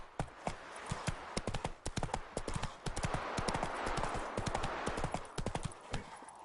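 Hooves of the horse Roach in The Witcher 3 pound in a fast, steady galloping clip-clop, close and rhythmic, with no talking.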